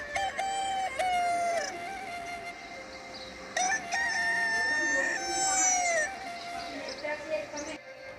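Chickens cluck while a rooster crows in repeated calls, bright and fairly close, with several overlapping bird voices throughout.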